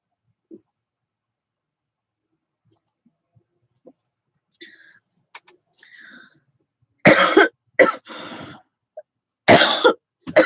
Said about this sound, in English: when I talk too much, I start coughing.